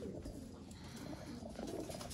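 A prized breeder pigeon coos softly and steadily from close by in a quiet loft, with low murmuring calls continuing throughout.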